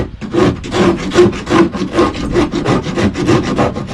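A hand rasp files a wooden hatch on a 12-foot wooden kayak with steady, rhythmic back-and-forth strokes, about two per second, close and loud with no talking.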